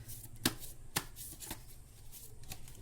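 Tarot cards being shuffled by hand to draw a guidance card, with a steady papery riffling texture broken by several sharp slapping taps at roughly half-second intervals, close and clear with no talking.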